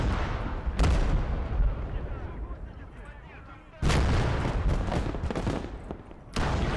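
Heavy artillery blasts and gunfire from the Call to Arms: Gates of Hell war video game, three loud booming impacts with rumbling aftermath between them, while someone talks over the battle.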